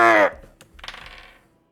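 A short clatter of tabletop dice dropped and rolling during a Pathfinder tabletop game, a few quick bright hard ticks and rattles that settle and fade within about a second, following a brief voice at the start.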